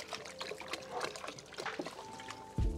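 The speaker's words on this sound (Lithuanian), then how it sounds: "į patį kazaną pilomės vandens" Water, about three litres, poured into a cooking cauldron for boiling crayfish trickles and splashes quietly for a couple of seconds, ending with a dull thump.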